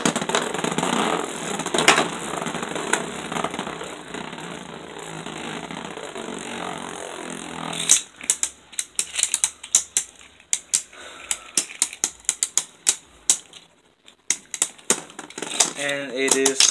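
Beyblade Burst Turbo tops, Omega Orichalcum and Breaker Xcalius, spin and battle in a stadium with a dense whirring rattle. Rapid clacking collisions follow as the tops strike each other, loud and close, with voices faintly present early on.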